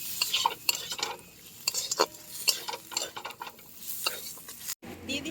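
Chopped tomato stirred in mustard oil in a pan, sizzling steadily while a spoon scrapes in repeated close strokes, with a brief cutout near the end.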